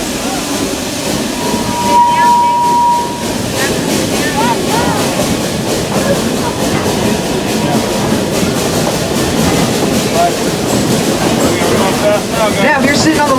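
A passenger train behind the locomotive Tuolumne on the Roaring Camp & Big Trees railroad rumbles steadily along the rails with a continuous clattering roar, heard from inside, with faint voices in the background.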